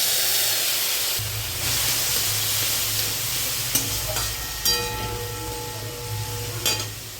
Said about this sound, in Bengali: সামান্য জল দেবো মশলাটা কষার জন্য